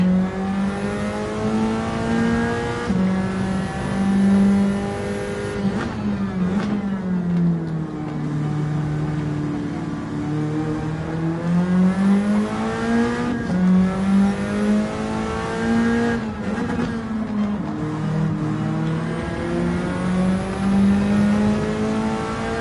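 A Group 4 race car in a BTCC racing game roars through a lap, its engine revving up and down through gear changes, loud and continuous with no talk over it.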